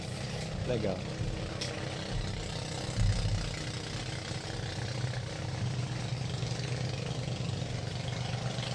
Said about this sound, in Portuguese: tá passando um barco aqui